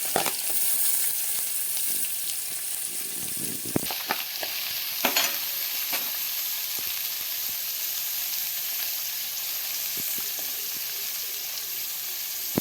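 Garlic, ginger, sliced onions and small shallots sautéing in a hot pan for a crab roast, with a steady close sizzle and a few scraping stirs near the start, no talking.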